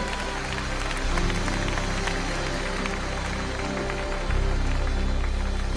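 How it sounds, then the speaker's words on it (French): Worshippers in a church congregation clap loudly and steadily together, a dense wash of applause mixed with crowd noise and voices for several seconds. "Let's clap up to the Lord."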